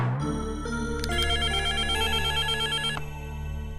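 Telephone ringing indoors in a Tamil family drama: a continuous electronic ringtone with layered tones, steady and fairly loud, no voices.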